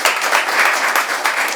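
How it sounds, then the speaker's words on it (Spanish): Audience applause welcoming a guest at an inspirational talk event, a full, steady roar of many hands clapping, loud and sustained throughout with no voices over it. "los invito a darle un aplauso a Federico Moreira"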